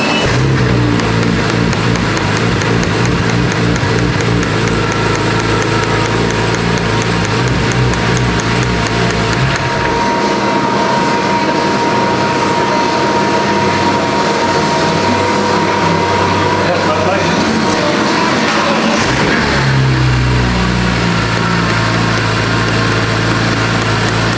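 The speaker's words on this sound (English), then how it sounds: "Car is making a little bit noise, but I think it should be fine." A steady engine rumble from a BMW E46 M3 after Vanos maintenance runs throughout, dipping briefly midway before resuming its low, continuous drone.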